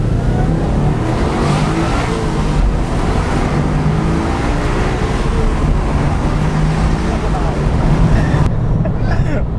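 A stock Subaru Impreza WRX STI Type R V-Limited, boosting about 1.1 bar with a sticking fourth gear, accelerates through the gears, its engine droning loud and steady from inside the car as someone talks over it.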